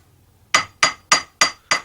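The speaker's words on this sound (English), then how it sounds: "Very precise work here with the planishing hammer." A silversmith's planishing hammer strikes silver in a Dublin workshop, five bright, ringing metallic taps at an even, unhurried pace, close and loud against a quiet room.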